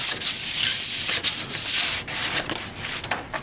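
Close, continuous sanding across the wooden panel of a Burger Time arcade cabinet, a loud steady rasping rub broken by short pauses and quicker strokes near the end, with no talking.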